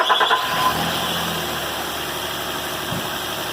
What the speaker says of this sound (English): We're gonna go start the engine and see how it runs after we did all the work.